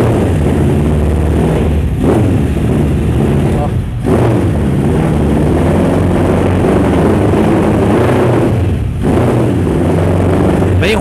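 A Suzuki Bandit 1200 motorcycle, carburetted and running on stale fuel, idles loud and close with a rough, uneven engine note that sags and dips around the two, four and nine second marks as it falters at low revs.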